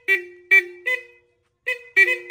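Vehicle horn being tested, sounding in six short loud blasts with a pause in the middle, the later toots coming in quick succession, close by and alone.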